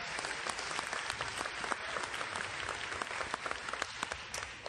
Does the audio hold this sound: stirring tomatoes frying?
no